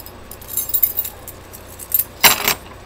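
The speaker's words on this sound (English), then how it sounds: "it's my keys." A bunch of keys jangles in a few short metallic bursts, close and clear, with the loudest shake near the end and quiet pauses in between.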